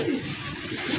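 A high flyer pigeon gives a soft, low coo at close range, a brief murmuring call over light background noise, with no talking.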